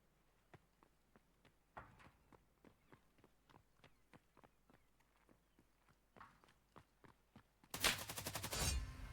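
Gunfire in an esports match of a multiplayer shooter game, heard as faint, evenly spaced single shots and steps, then a louder close burst of rapid fire near the end.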